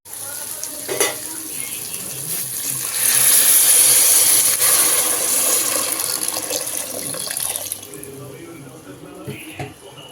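Water is poured into a pan of simmering mutton varuval, giving a rising rush and splash that hisses against the hot curry for several seconds before it fades back to a soft bubbling sizzle.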